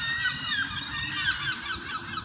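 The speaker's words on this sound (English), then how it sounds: "seagulls are loud still" Loud seagulls calling outdoors, a continuous overlapping chorus of squawking cries heard nearby over a faint background rumble, with no talking.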